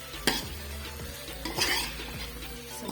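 Potato pieces go into a pan of tomato masala for a sweet-and-sour aloo bhujia, with steady close sizzling, a couple of sharp clatters and scraping stirring throughout.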